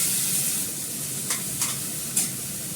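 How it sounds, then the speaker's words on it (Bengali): Fish sizzles steadily in a frying pan while mustard goes in for a fish curry with beans and potatoes, a constant close hiss broken by three brief scraping stirs, with no voices. "ভালো করে ফ্রাই করবো।"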